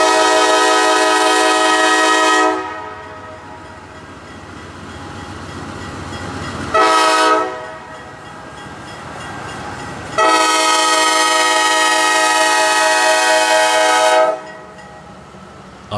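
Loud train horn sounds in long blasts, pausing between them, over the low rumble of a passing freight train.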